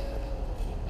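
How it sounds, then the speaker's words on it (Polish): A tram rolls through the town square of Jelenia Góra, a steady low rumble with a faint high tonal whine, close and continuous. "Tramwaj."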